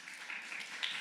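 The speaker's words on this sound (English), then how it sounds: "Big round of applause to the CNTRCTY team." A conference audience applauds, a brief, soft and dense patter of many hands clapping, heard from a distance without voices.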